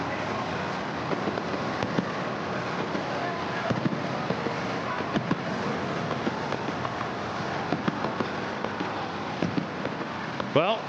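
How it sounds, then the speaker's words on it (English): Fireworks go off at the football stadium in Gosford on the Central Coast of New South Wales, a continuous crackle of distant bangs and pops over crowd noise and wind rumble, loud and unbroken. "as the fireworks prepare to get into full swing"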